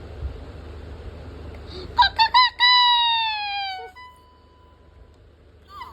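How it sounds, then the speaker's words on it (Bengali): A few quick clucks burst out, then a single drawn-out falling squawk, close and clear against a quiet background. "ওই দেখ মুরগি ডাকছে,"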